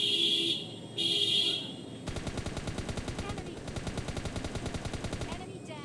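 Automatic gunfire rattles in PUBG Mobile Lite as a long, rapid burst of evenly spaced shots, close and loud. Two short electronic beeps come before it.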